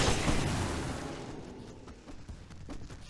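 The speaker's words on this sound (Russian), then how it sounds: "Что за взрыв? Откуда он взялся?" An explosion in the video game Alan Wake bursts loudly at the start, then its rumble decays over a couple of seconds into quieter scattered in-game noises.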